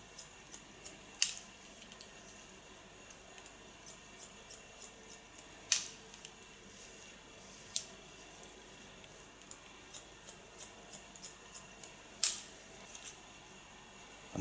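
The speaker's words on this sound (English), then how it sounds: "Using a deep point cut technique" Hair being cut wet with scissors in a deep point cut technique, a series of soft, close snips spaced irregularly, a few sharper ones standing out, with no talking.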